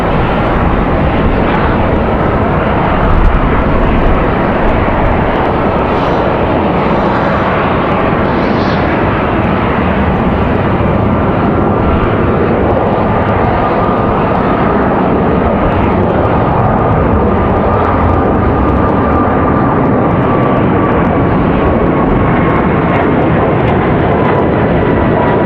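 A fixed-wing airliner departs Raleigh-Durham International Airport in gusty wind, its engines giving a loud, steady broadband roar that holds for the whole stretch, with a slowly sliding tone running through it.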